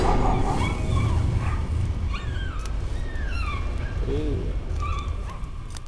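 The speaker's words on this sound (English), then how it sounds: "The dog in the painting. Barking at you." A dog in the horror video game Layers of Fear barks and yips in short bursts over a dense, rumbling background, with occasional whimpering cries scattered across the stretch.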